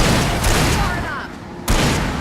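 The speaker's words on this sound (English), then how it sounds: "Shooting!" Gunfire in Alan Wake during an ambush, a rapid volley of shots that fades briefly before another loud burst, with voices faintly present beneath.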